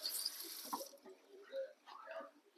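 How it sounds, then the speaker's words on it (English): Tap water runs at a kitchen sink while hands are rinsed, a soft hiss of flowing water that fades after a moment, followed by faint clatter and handling noises, quiet and close. "Gotta rinse my hands again."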